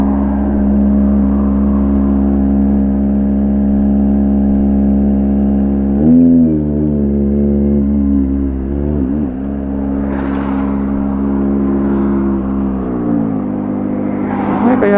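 A Kawasaki Ninja ZX6R motorcycle engine idles loud and close, its steady drone swelling and dipping through several throttle blips and revs.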